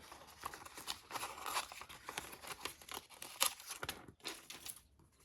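Close, quiet snips and paper rustling come from scissors cutting a small heart shape out of a paper template, with irregular crinkles and soft cuts throughout.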